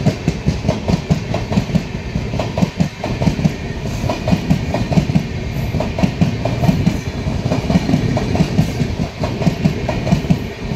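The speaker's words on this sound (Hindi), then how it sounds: "तो ये थी गोरखपुर से चलकर कोचुवेली जाने वाली ट्रेन जो डालीगंज स्किप कर रही है।" A Gorakhpur–Kochuveli express passes through Daliganj station without stopping, its coaches producing a loud continuous rumble and rhythmic clickety-clack of wheels over rail joints, close by and without talk.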